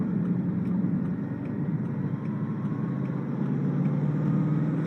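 A supercar engine pulls steadily up a motorway on-ramp at partial throttle, a continuous low droning rumble heard from inside the car, even in loudness with faint road and wind noise.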